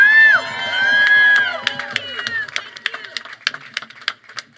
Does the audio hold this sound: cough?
no